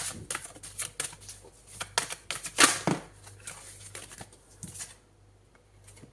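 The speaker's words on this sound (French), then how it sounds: "Allez, on prend une deuxième carte." A tarot card is drawn from a deck with a quick flurry of close papery shuffling and flicking sounds, a few sharp snaps, then quieter handling that fades to near silence.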